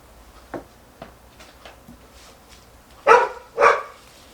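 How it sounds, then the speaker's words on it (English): A dog barks at a Newfoundland: a few soft, scattered barks at first, then two loud, sharp barks close together near the end. "She's barking at our"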